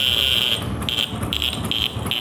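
A Bajaj Super scooter's loud, steady high-pitched horn blares repeatedly in short bursts, a long first blast followed by several shorter honks over the engine's low rumble.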